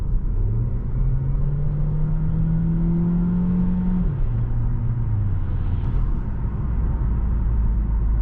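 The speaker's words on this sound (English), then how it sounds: "The engine kicks on, you can kind of hear / feel that starter generator" An Alfa Romeo Tonale hybrid's engine kicks in at about half throttle and hums steadily, its pitch climbing smoothly as it accelerates, then settling and dropping slightly, with a constant low rumble throughout.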